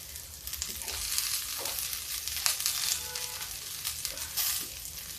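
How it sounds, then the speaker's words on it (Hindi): Potatoes and peanuts fry together in a pan, a soft sizzle broken by light stirring scrapes and faint clinks, quiet and close. "मूंगफली मेरी थोड़ा फ्राई हो गई। मैं आलू इसमें डालती हूँ।"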